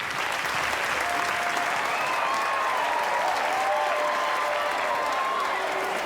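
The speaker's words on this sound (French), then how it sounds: "Un tonnerre d'applaudissements pour nos outsiders de ce soir." A large audience applauds continuously, dense steady clapping filling the whole stretch at an even level, with faint tones drifting above it.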